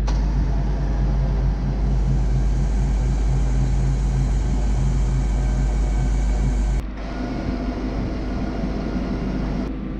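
A Futura lowering trailer rising after the remote's up button is pressed, giving a loud, steady mechanical drone that holds unbroken for several seconds, then drops slightly in tone and carries on.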